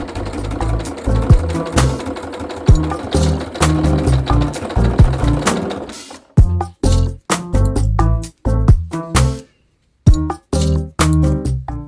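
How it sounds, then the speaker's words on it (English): A sewing machine stitches a felt strawberry's leafy top in green thread, running in bursts of rapid mechanical chatter, steady at first, then in short start-stop runs separated by brief pauses, close and loud with no talk. "switch to green thread and sew the leafy top."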